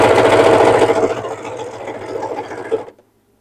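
A sewing machine runs a straight stitch through small fabric scraps, a close, steady mechanical whirr with rapid needle clatter that slows slightly before stopping abruptly near the end.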